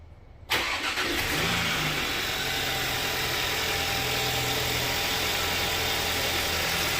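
A jump-started Audi Q5 engine fires up and settles into a loud, steady idle, a continuous even hum with no voices over it.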